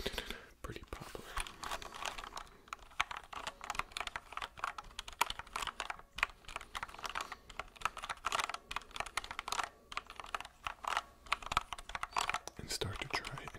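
Continuous close-up keyboard typing, a rapid irregular patter of key clicks throughout with no pauses.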